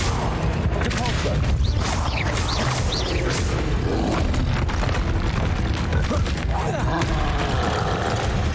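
Heavy magical impacts from the Depulso spell in Hogwarts Legacy boom repeatedly and loudly through a dense, continuous wash of game combat noise.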